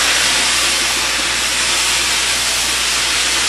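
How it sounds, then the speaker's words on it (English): A steam cleaning tool blasts steam onto a cafe floor, giving a loud, steady hiss that holds without a break and with no voices over it. "Now you can see the steam pouring out of the tool."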